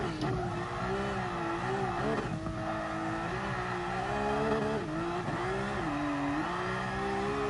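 Car engine in GT Sport revving hard through a drift on the Nordschleife, a steady loud whine rising and falling with tire squeal, continuous throughout with no talk.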